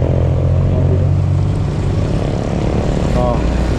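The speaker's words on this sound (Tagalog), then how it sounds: "Ang lakas ng makina niya mga idol." A new 2025 Honda ADV 350 scooter engine drones steadily and loudly up close, with a constant low hum and a brief rev, while someone talks over it.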